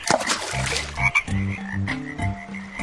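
Frogs croak at a cartoon pond in a run of loud, close, stacked croaks, bursts of low rhythmic calls with brief pauses between, and no speech.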